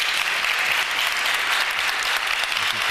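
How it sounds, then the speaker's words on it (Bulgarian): Steady applause from a crowd, dense and continuous clapping that holds at an even, fairly loud level throughout. "Чувате ли аплодисментите?"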